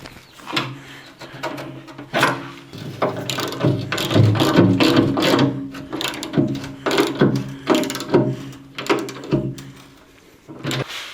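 A hand ratchet tightens the mounting bolts of a BXpanded Piranha tooth bar on a Kubota BX tractor loader bucket: repeated close bursts of rapid clicking, paused and restarted in a steady working rhythm.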